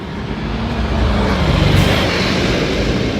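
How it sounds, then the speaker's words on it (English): Heavy lorries and road traffic roar past on the North Circular where it crosses the River Lee, a steady loud broadband rumble that swells slightly midway as a vehicle goes by, with no talking. "excuse the noisy lorries"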